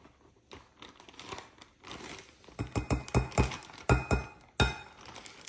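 A heaping measuring tablespoon scoops dry gingerbread mix, giving a run of crinkly, gritty scrapes and light clinks that come in quick, separate strokes, close and moderately loud.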